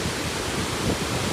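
A thick, unbroken roar of churning water pours from Hukou Waterfall, the narrow chute of the Yellow River in Shanxi, heard close and loud with no talking, swelling only slightly.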